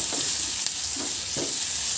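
Small squid cooking as adobo with long chilies and sautéed aromatics in a pan gives off a steady, bright sizzle, with a few soft stirring scrapes every half second or so.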